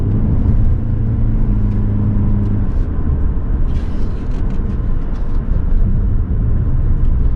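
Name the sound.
2023 Toyota Prius driving around turns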